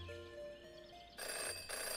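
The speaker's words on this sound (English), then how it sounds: "In her short time as a detective, Jenny had learned never to ignore a ringing phone." A phone rings in the detective adventure game Jenny LeClue, its bright electronic trill repeating in two loud bursts over quiet game ambience.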